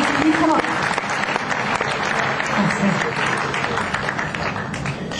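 Audience applause at a nightclub event, a dense wash of many hands clapping steadily throughout, loud and close, with voices and crowd noise mixed in underneath.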